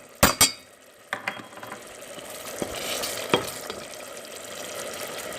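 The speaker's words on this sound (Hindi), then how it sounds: "अब हम अदरक लहसुन डाल देंगे।" Ginger and garlic frying in oil with onions and spices for a spicy chicken liver curry, with clinks of a spoon at the start and a low steady sizzle building underneath, no talking.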